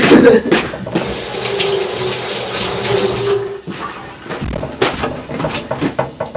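Kitchen tap water gushes steadily into the sink while an onion is rinsed, then gives way to intermittent splashing and dripping as the flow is interrupted.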